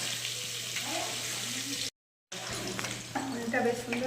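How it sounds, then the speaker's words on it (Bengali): Paneer frying in a pan in a home kitchen gives a steady, moderate sizzle with light stirring, interrupted by a short silent gap before the crackling resumes. "পনিরটা বেশ সুন্দর লাল লাল করে ভাজা হয়ে গেছে"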